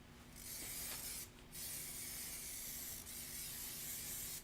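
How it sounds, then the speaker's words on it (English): An aerosol can sprays fabric for a quilted table topper, giving a steady soft hiss in long bursts. Two very brief pauses break the spray. It is close but quiet, with no talking. "Doesn't have to be a crazy amount of spray."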